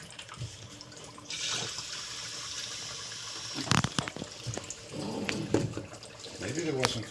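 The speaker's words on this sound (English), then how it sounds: "we're going to put some more water" Water poured onto dry ice in a home CO2 science experiment, a steady rushing pour and bubbling hiss that swells midway and breaks into splashy bursts, with people talking over it.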